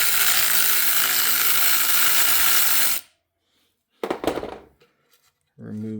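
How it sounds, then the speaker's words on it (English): A socket wrench ratchets to loosen a nut on a Triumph Thruxton 900 motorcycle. A dense metallic clicking run comes first and stops abruptly. After a pause there is a brief clatter of tool handling, then a short burst of speech. "Grab my socket wrench here."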